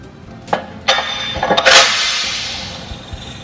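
A Fontaine KPT kingpin tool being fitted onto a fifth wheel, heard as several loud close metallic knocks and clanks in quick succession, followed by a ringing, hissing tail that fades out.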